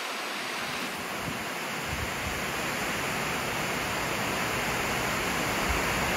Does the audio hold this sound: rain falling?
yes